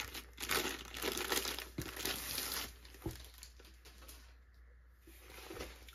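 Plastic packaging for a Diamond Art Club canvas kit crinkles and rustles up close as it is pulled open, the crackling busiest in the first few seconds and then thinning to softer handling.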